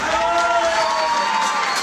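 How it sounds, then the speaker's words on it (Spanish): An audience cheers and applauds for a performer in a theatre, a short burst of crowd noise with shouts and whoops blending into continuous clapping. "quiero renovar ese aplauso para Luis"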